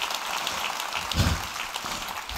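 A church congregation claps in a brief, moderately loud burst, with dense overlapping applause from a crowd at middle distance.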